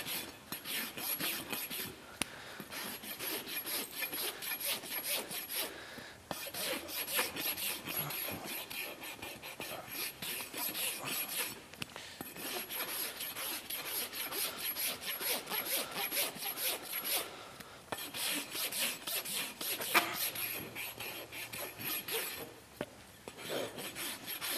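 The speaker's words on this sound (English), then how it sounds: "I'll just run my rasp forward." Farrier's rasp filing a horse's hoof during shoeing, continuous rhythmic scraping strokes back and forth, close and gritty, with only brief breaks between passes.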